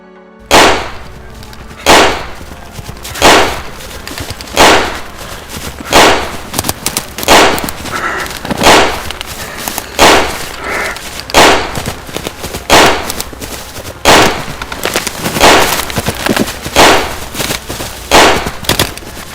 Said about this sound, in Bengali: হঠাৎ ঘনশ্যামের পিঠে একটা গুলি লাগে